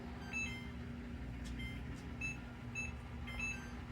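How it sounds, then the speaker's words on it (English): A kitchen timer gives short, faint high beeps in small irregular groups while being reset, over a steady hum. "I'm going to reset this timer."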